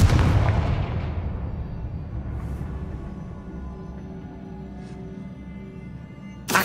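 Confringo blast spell cast in Hogwarts Legacy: a loud, deep explosive boom at the start that rumbles and slowly decays over several seconds, with a faint sharp hit at the end.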